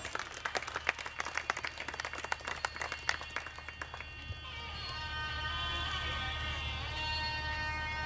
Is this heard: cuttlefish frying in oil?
no